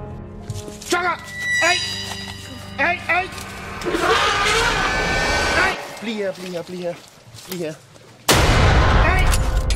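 Warning gunshots ring out near a giant elephant as someone shouts at it from behind a truck, several sharp loud cracks mixed with shouting voices and squealing.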